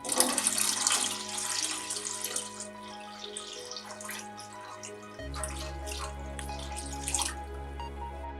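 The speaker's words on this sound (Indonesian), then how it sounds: "Setelah agak kental, tambahkan 1200 ml air kelapa muda." Young coconut water poured into a pot of thickening mixture, a strong splashing gush at first that settles into a steadier trickling pour.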